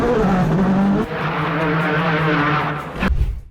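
A rally hatchback with a turbocharged 2.0-liter Duratec four-cylinder, built for desert off-road running, howls loudly at high revs, then drops off with a rough, scrabbling burst at the end; no voices.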